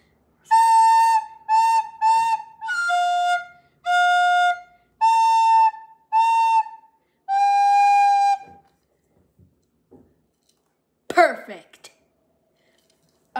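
Recorder plays the tune Cwb special as a run of clear, sustained whistle-like notes, a few short repeated ones and then longer held tones, followed by quiet pauses and faint handling noise.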